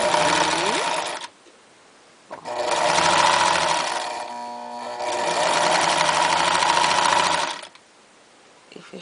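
A sewing machine runs in two loud, sustained bursts with a short pause between, stitching the sleeve seams of a cloth rag doll up close, with quiet gaps before and after.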